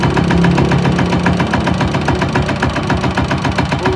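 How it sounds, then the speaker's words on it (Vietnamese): A Kubota AC62 diesel engine running steadily up close, a loud, even, rapid knocking thump with no talk over it. "Anh em nghe tiếng máy Kubota nổ rồi"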